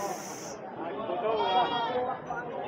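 Goats bleat close by at a livestock market, with a long wavering call standing out over steady crowd chatter and voices.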